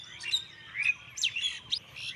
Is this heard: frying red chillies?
no